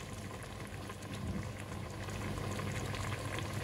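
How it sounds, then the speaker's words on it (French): A fish and mushroom sauce simmers in a pot, bubbling with a steady, dense crackle and low gurgle that continues evenly throughout, close and moderately loud, with no voices. "Ça mijote."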